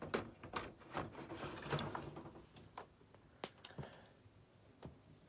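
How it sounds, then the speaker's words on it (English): Clattering and sliding clicks of a Brother KH-260 or KH-270 chunky knitting machine carriage being set back onto the needle bed, a few sharp close knocks after a rougher scraping stretch, with no talk. "Put the carriage back on the bed."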